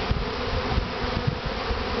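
Honey bees swarm around an opened top bar hive during a honey harvest, their dense, continuous buzzing hum filling the air close by, with faint handling knocks and no talk.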